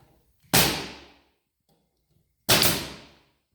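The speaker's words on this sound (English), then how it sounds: "It's a nail gun thing." Two sharp, loud bangs about two seconds apart, each with a quick decay, sounding like a nail gun firing with near silence in between.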